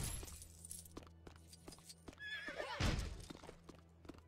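A horse in the video game LEGO Worlds lets out a loud, shrill whinny that rises and falls, with light clip-clopping hooves and soft game ambience before and after.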